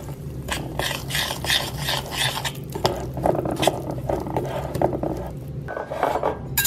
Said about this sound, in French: Dans un saladier, je mélange le sucre glace, la farine et la poudre d'amande ainsi que la vanille en poudre.